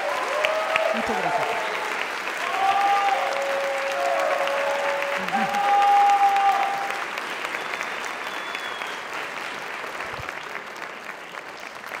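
An audience at a university music faculty event claps warmly in a steady, full round that swells and then eases, with a brief spoken thank-you and a few voices over it.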